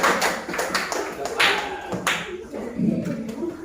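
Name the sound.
applause for group one in a classroom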